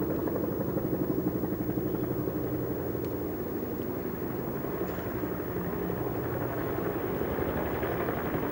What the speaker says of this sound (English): Through the still air, the sound of the motors of a helicopter.